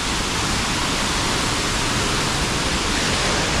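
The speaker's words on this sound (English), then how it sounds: "we're just coming down to Panther Creek Falls, and it is stunning" Panther Creek Falls in Oregon's Columbia River Gorge roars as a steady, loud, broadband rush of falling water close by, unbroken and with no voices over it.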